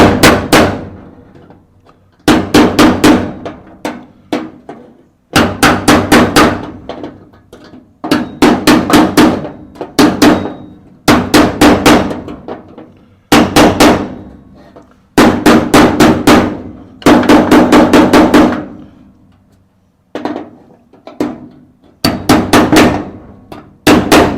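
A piece of brass is hammered to shape a car's rear footwell floor pan, struck in repeated bursts of loud, ringing metallic blows with short pauses between groups, close and dominant throughout.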